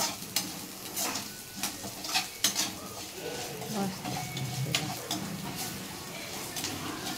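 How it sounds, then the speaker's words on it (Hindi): Food being fried and roasted in a pan in a home kitchen, a soft sizzle with intermittent spatula scrapes and clinks of utensils, fairly quiet and close. "उसको अच्छा से भूंज के लाल होते तक भून के"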